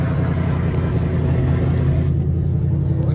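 A Ford GT500 fitted with Corsa Xtreme full exhaust and aftermarket cams gives off a loud, steady, deep exhaust rumble close by, with no speech over it.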